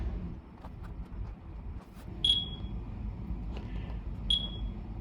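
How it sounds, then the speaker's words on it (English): Two short, high electronic beeps from an Olivetti M computer searching for its fixed disk sound a couple of seconds apart over a low, steady machine hum. "that beep is just due to the fact it's trying to find the fixed disk"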